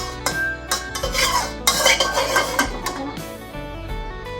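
A metal spatula scrapes and clatters around a wok in quick, uneven strokes over a steady sizzle of curry paste frying in oil.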